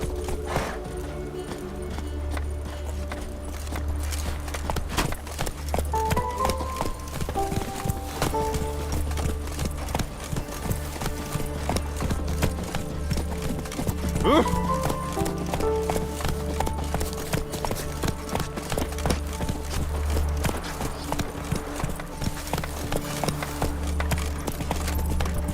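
Roach, Geralt's horse in The Witcher 3, clip-clops along at a steady walking rhythm, with hoofbeats layered over game ambience, background music and occasional faint voices.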